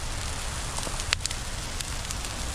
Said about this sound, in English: I feel safer lighting up a huge, huge fire.